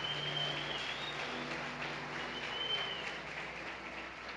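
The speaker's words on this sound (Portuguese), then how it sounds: "Se você recebe, aplauda o Senhor em nome de Jesus." Church congregation clapping together, a soft, steady wash of applause heard from a distance that holds evenly throughout with no talk over it.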